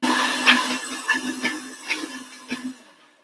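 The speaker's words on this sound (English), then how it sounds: "I'm so brave blending on camera." A kitchen blender whirs in a home kitchen, a steady motor drone broken by several sharp bursts as it works through the mix, then winding down near the end.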